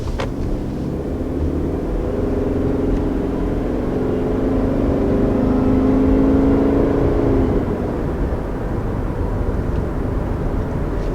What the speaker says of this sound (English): I think the engine feels plenty powerful enough.